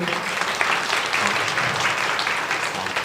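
A congregation claps during a Mandarin-language Sunday church service to welcome a 102-year-old first-time visitor. Dense, even applause holds at a steady level for the whole stretch, with no break.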